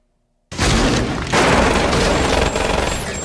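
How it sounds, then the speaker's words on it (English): The Bioforce gun from the Doom film fires with a sudden loud blast, followed by a sustained roaring burst of weapon noise that swells again partway through and carries on to the end. "Rock comes in with the Bioforce gun to take care of business"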